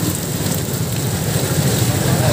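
Steady rain pours in a dense, even hiss on a road in Marikina City, with a low rumble of traffic underneath.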